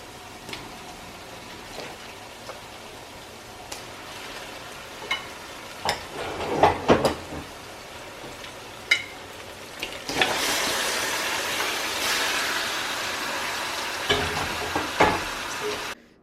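Onions fry in hot cooking oil over medium heat for biryani, a quiet crackle with scattered pops and stirring clatters that swells into a dense, steady sizzle about two-thirds of the way through.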